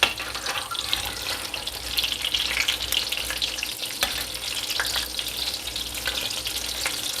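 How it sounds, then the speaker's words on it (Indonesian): Egg and rice vermicelli omelette frying in a pan, a steady close sizzle and crackle with occasional scraping stirs, no talking. "Nah ini tak goreng."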